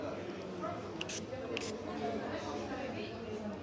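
Two quick hissing spritzes from a Sol de Janeiro perfume spray bottle, close by, with a low murmur of voices and shop ambience underneath.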